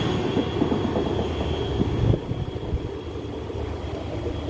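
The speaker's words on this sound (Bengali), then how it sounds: "এই হচ্ছে জনশতাব্দী হাওড়া ভুবনেশ্বর।" Jan Shatabdi Howrah–Bhubaneswar express train rumbling past nearby, a steady loud roar of wheels and carriages with faint rail squeal, easing slightly after the midpoint as it goes by.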